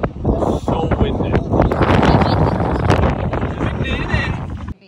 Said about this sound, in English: Not gonna be able to hear anything, but just wind